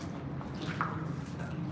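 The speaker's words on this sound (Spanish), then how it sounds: "Se escucha mucho como que viene agua, Raisol." Faint squishing drips and trickling water rising inside the underground tunnels of San Luis Potosí, a soft continuous wet patter with no voices.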